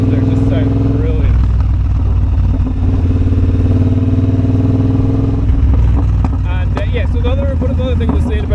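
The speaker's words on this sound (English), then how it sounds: "All those little pops are coming out the back of the exhaust there, just sound brilliant." A Triumph Bobber motorcycle with a shorty exhaust rumbles loudly and close, its throbbing engine note punctuated by small crackling pops on deceleration, with a voice talking over it.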